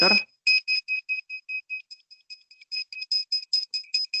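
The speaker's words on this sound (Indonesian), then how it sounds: "maka sensor ultrasonik akan berbunyi nyala cepat" Buzzer on an ultrasonic distance sensor circuit beeping in a rapid series of short, sharp electronic tones after a brief low thump, the pulses evenly spaced and quickening slightly, fairly close and clear.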